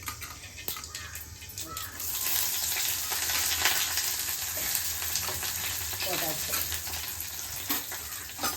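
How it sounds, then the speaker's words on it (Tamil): Dense crackling sizzle of mustard seeds spattering in hot oil, steady throughout with scattered sharp pops and a brief faint voice. "இது கடுகு இன்னும் பொரியணும்ல"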